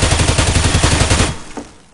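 Rapid automatic gunfire from a CS:GO match, a loud burst of evenly spaced shots lasting over a second before cutting off into quieter game ambience.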